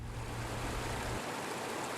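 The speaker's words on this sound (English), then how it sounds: "We're in a watershed today, and we're beside Stony Creek" Water of Stony Creek flowing in a watershed, a steady broadband rush with a low rumble that drops away partway through, heard alone with no voices.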